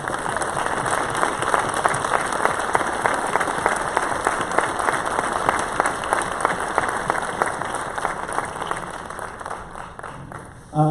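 Audience at a 20th anniversary concert of the El Segundo Concert Band and South Bay Music Association applauds officials in a hall, sustained crowded clapping that tapers off near the end before a voice returns.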